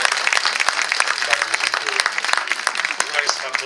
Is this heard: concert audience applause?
yes